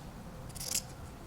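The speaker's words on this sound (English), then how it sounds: "Cut down the middle, exactly where I've drawn it." Scissors snip once through T-shirt fabric during a sewing upcycle, a short crisp cut rising briefly above quiet room noise.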